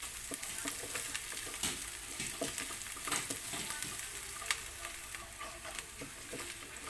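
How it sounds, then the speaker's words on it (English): Garlic sautéing in a pan gives a constant crackling sizzle with scattered spatters and stirring clicks, fairly quiet, without any talk. "And just saute about 1 minute for the garlic."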